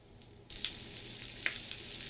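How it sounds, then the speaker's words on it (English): Stuffed eggplant with shrimp paste laid face down in hot oil to pan fry: a sudden sizzle bursts in after a quiet moment and continues as a steady crackling hiss. "when you pan fry stuffed eggplants, you want to make sure it's the shrimp paste face down"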